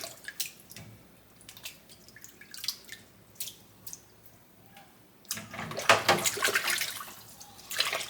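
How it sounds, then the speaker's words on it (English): Egyptian walking onions are rinsed in water, first with scattered drips and small splashes, then a louder burst of sloshing and running water toward the end, close by with no talking. "the water is not dirty, but I'm going to rinse it again a second time"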